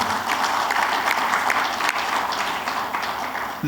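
Inauguration session audience gives the chief guest a round of applause, a dense steady wash of many hands clapping that fills the hall, loud and continuous with no talk over it.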